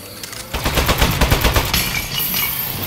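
Automated turret firing in the video game Aperture Desk Job, a fast rattling burst of rapid shots, loud and close, running steadily for about two seconds before trailing into a hissing, mechanical wind-down.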